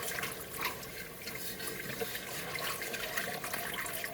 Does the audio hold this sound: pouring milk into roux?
yes